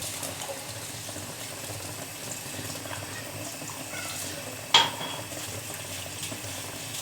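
Dishes are washed under running water at a kitchen sink, a soft steady stream with faint clinks and one sharp clatter of a dish partway through, without speech.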